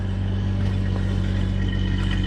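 A 1989 Jeep Cherokee XJ engine running at a steady idle, a close, even low hum with a continuous mechanical drone and no voices over it.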